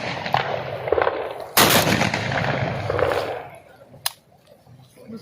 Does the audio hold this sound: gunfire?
yes